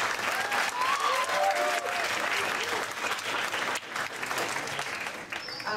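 Audience applause at a poetry night in a small room, a sustained round of clapping with a few faint voices and cheers mixed in, moderately loud throughout.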